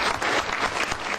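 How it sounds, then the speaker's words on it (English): Applause at a council meeting, a brief burst of steady, dense clapping from a group in a hall. "Let's give Matt a round of applause"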